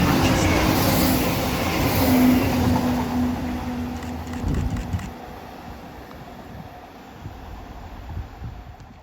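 Class 195 unit 195102 passes through Heald Green bound for Manchester, a loud close rumble and rail hum that swells then fades away over several seconds, leaving quieter background noise.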